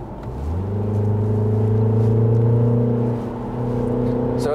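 A Mini John Cooper Works Countryman ALL4 with about 300 horsepower accelerates from 40 to 60, its engine note rising steadily and holding loud for a few seconds before easing off under a brief lift.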